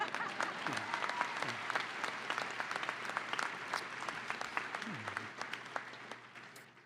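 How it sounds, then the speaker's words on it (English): At the University of Wisconsin-Parkside December 2022 commencement, the audience claps as a crowd, with individual sharp claps standing out. A few low voices murmur beneath the moderately distant applause. "If you'd like to clap after that"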